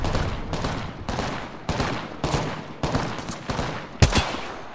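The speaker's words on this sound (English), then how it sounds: "Wait, somebody else is shooting us from behind" Loud gunfire in the Apex Legends battle royale game comes as a series of about eight sharp, booming shots at irregular intervals, close and punchy with ringing decays between them.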